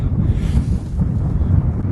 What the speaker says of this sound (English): it's a bit blustery, very, very windy up the top